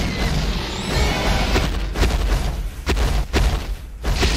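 Rockets fire and explode in Garry's Mod during a fight between giant kaiju monsters, a series of loud booming blasts and thuds overlapping in quick succession against a continuous rumble.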